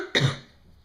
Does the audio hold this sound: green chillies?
no